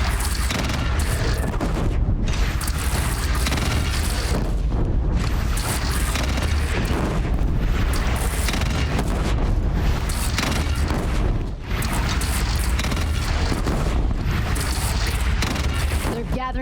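Game battle in Horizon Zero Dawn with booming cannon fire and explosions, a dense continuous barrage of blasts and rumbling under a busy, noisy mix with voices shouting throughout.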